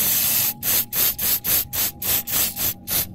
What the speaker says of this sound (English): Now we use the CRC spray cleaner, and there's no wrong way of doing it. Spray it all over